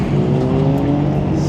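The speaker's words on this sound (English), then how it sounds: "there's some sick cars pulling up." Car engines at a car meet, including BMW M3 and M4 models, rumble and idle close by, a low steady drone with a faint rev, as vehicles roll in slowly.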